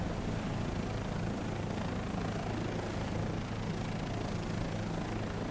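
Steady, broadband rotor and turbine drone inside the cockpit of a Bell 407 helicopter in Microsoft Flight Simulator, a constant moderate hum with no talk.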